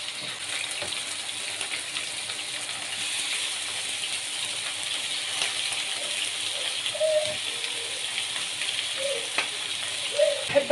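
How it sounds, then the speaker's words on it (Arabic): Meat frying in very hot oil in a pan for a simple Egyptian-style beef dish, a continuous bright sizzle with crackles and spits, moderately close and steady, with faint stirring near the end. "هنزل بقى هنا كده ايه، طبعا الزيت سخن قوي وسامعين"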